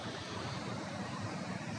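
Broadband rushing water flows steadily at a river where people can jump in, a constant wash with no distinct events, fairly loud and filling the short span without any voices.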